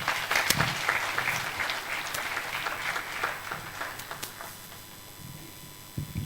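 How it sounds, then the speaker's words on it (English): Applause from an audience at a governance lecture series in Plateau State, Nigeria, steady, dense clapping filling the room throughout, fairly loud and sustained without a break. "A round of applause for the Excellency."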